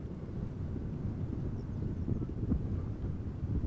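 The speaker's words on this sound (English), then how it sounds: "With the wind blowing, it is very doable over here." Wind blows at Amsterdam Schiphol Airport, a low, muffled rumble buffeting the microphone that stays fairly quiet and steady with slight gusts.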